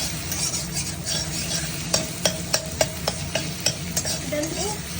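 Egg stirred slowly in a sizzling pan, with a soft continuous fry under a run of sharp, evenly spaced utensil taps against the pan and no voices.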